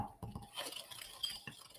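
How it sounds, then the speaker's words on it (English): A muddler grinds a sugar cube soaked with a few drops of bitters in a glass, giving a close, quiet run of scraping and knocking clinks at an uneven pace, with no talk. "I do about 3 drops of bitters on my cube. Take my muddler, crush that down"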